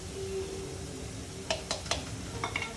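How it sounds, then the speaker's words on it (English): Ginger and garlic fry in a pan under a low, steady sizzle while a utensil scrapes and clinks against the pan a few times, close up and with no talking. "A little stirring."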